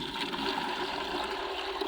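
Homemade liquid fertilizer for tomato plants is poured into a container, a close, steady gurgling stream of liquid lasting about two seconds.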